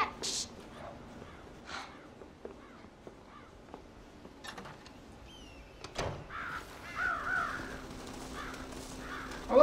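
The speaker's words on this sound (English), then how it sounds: "Am I killing all these crows?" Crows caw in a cornfield in the video game Red Dead Redemption, with several scattered harsh calls against a quiet background, plus a few clinks and faint voices.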